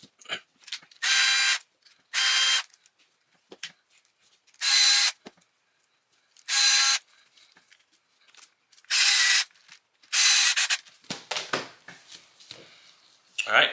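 Ratcheting bursts from screwing parts onto an Axial UTB18 Capra crawler chassis: six loud, close clicking runs of about a second each, separated by pauses, followed by scattered handling clatter.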